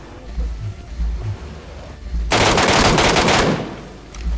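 MK rifle gunfire in PUBG Mobile, a loud rapid burst of automatic shots after quieter scattered game sounds, with a person talking.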